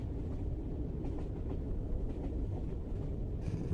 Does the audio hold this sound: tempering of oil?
no